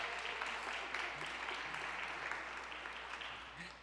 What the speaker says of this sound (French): C'est beau de commencer la journée avec des applaudissements.